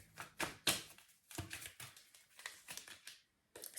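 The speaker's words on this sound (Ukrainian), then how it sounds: "Ще одну карту зараз витягну." Tarot cards slide and flick against one another in quick, uneven papery rustles and snaps, close up, with a short pause near the end.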